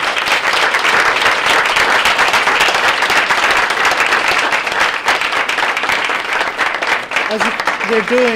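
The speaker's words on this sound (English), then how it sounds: "let's give our panel a round of applause" Dense, steady applause from a large audience for a panel at a forum fills the space, fading slightly at the end as a voice begins to speak.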